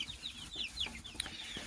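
Young chicks in a brooder box peep and cluck in quick, high chirps, fairly close and moderately loud, scattered in an irregular rhythm over a low background hum.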